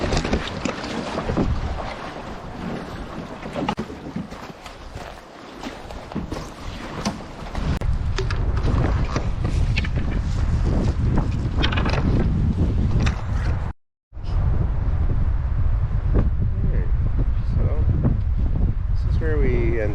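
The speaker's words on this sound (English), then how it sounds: "It's extremely windy, pretty much landlocked here" Strong wind gusts roar across a lakeside campsite beside a canoe and tent, loud and continuous, with a brief dropout partway through.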